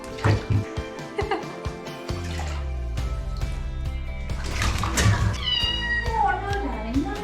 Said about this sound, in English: She meows when she needs to call me.